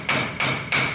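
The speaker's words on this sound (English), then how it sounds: "Turns out the secret really is hammering it in" A metal part is driven in with a hammer: three sharp, loud strikes at an even pace, each ringing briefly before the next blow.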